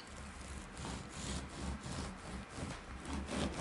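A knife saws through bread to cut it into strips about one centimetre wide, giving a steady rough rasping with regular strokes, close and fairly quiet.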